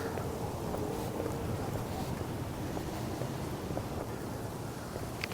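Strong gusty wind on an exposed outdoor walk in the cold, a constant loud roaring rush buffeting close to the microphone, with no speech.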